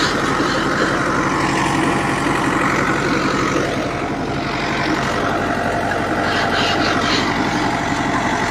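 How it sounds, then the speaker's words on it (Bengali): A road roller finishing a new road surface between Bhatra Bazar and Tiuri Bazar, its heavy diesel engine droning steadily and loudly up close with a continuous low rumble and no break. "এই রাস্তা দেখেন, রোলার দিয়ে রাস্তা ফিনিশিং করার কাজ চলতেছে।"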